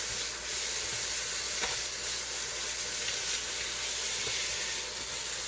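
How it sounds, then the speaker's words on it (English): Chicken frying in a pan for a burrito bowl, a steady close sizzle and hiss of hot oil with faint occasional ticks and pops, continuous and even throughout. "I already went ahead and started frying up my chicken."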